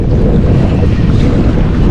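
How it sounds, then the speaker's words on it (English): Loud, constant roar of ocean waves and gusting wind buffeting the microphone around a kayak off the Oregon coast, with no voices. "The waves are getting bigger."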